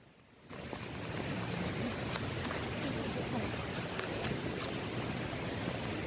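Continuous broadband rush of the Tambdi Surla waterfall in a Goa forest, swelling in after a quiet opening and holding steady and loud, a dense gushing roar of falling water.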